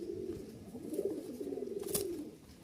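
Giribaz pigeons from Rajshahi give a faint, low, rolling coo that swells and fades over a couple of seconds, heard alone in a quiet setting.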